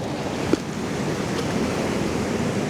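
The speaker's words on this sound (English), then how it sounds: "Get some of these waves." Ocean surf rolls and breaks against a shore in a steady, continuous wash of broadband noise, with wind buffeting the microphone and a small bump near the start; no one speaks.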